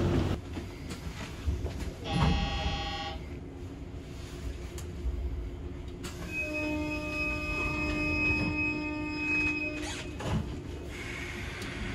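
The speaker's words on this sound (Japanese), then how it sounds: "ついに東京駅を発車いたします。" A 185 series train pulls away from Tokyo Station with low rumbling and clanking, steady tonal whines rising partway through, and a brief high squeal early on; no talking.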